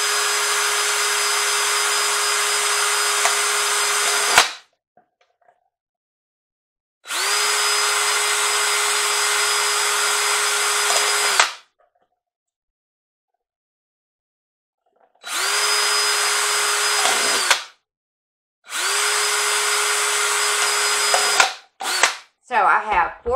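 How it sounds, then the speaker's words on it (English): A power drill whirs at high speed into a plastic cup in four long bursts separated by silent pauses, then a few short trigger pulses; loud and close. "let the drill do the work"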